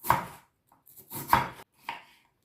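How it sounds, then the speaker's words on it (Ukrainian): A knife chops potatoes into strips on a board in three quick bursts, each a firm thunk followed by a brief slicing rasp. "Ріжу смужками картоплю."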